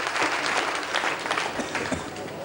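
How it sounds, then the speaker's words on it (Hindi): An audience at a Somayagam gathering in Kozhikode, Kerala claps in a dense, steady burst of applause, moderately loud and continuous, with some voices mixed in. "मुझे ताली बजाना पड़ेगा"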